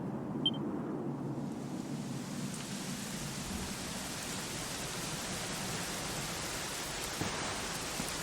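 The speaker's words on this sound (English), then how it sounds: "it was raining like this the last time I ever saw her." Steady rain pours in the video game Dragon Quest XI, an even hissing wash that swells in the first seconds and then holds constant, with no speech.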